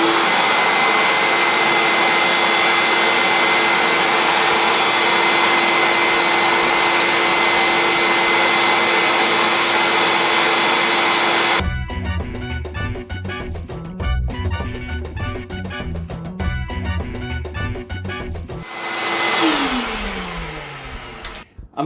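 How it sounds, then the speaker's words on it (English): A vacuum cleaner sucks old loosened debris out from under a curled linoleum floor, first a steady high whine, then a rougher, fluttering suction with clatter as it works the gap, and a rising motor note near the end. "And so now we're just going to vacuum it out of there."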